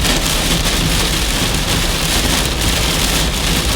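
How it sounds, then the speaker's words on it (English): Heavy rain pounds down in a dense, constant roar, loud and unbroken, with no voices over it, heard from a car while driving in a storm. "I did not anticipate this much storm, but I kind of like it."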